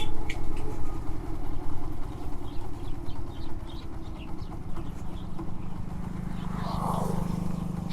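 Walton Leo 80 motorcycle engine idling with a steady low putter, close by, alongside faint background noise.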